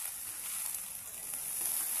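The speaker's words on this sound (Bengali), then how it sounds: "আবার কিছু সময়ের জন্য ভাজবো, কোনো লাল হয়নি।" Potatoes with fish roe fry in a pan, giving a faint, steady, even sizzle with a bright hiss that continues without a break for a couple of seconds.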